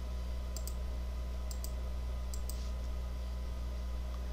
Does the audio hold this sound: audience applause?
no